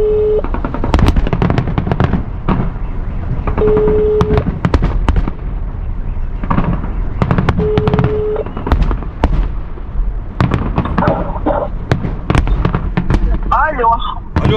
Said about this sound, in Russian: салют тут идет на этой, на набережной